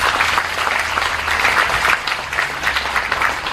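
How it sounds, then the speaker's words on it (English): Audience applause at a Buddhist temple centenary celebration in Sentul: steady, dense clapping from a crowd, loud and continuous with no voices over it. "Kindly give them a big round of applause."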